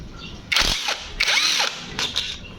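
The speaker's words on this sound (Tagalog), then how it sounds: "Ingat lang ng konti guys sa paggamit nga pala na yung pack wrench no. Kasi very powerful din yan at madaling makalos thread." An impact wrench working on a Yamaha Aerox 155 motorcycle, several short loud bursts of whirring and rattling hammering, close by.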